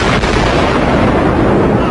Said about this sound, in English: We just heard one more explosion.